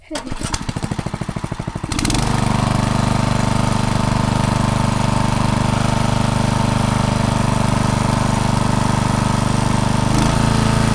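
An engine-driven water pump on a jungle farm in Leyte is cranked with a rapid chugging pull, then catches and runs as a loud, steady, close engine drone for the rest of the clip.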